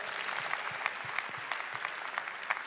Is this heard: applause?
yes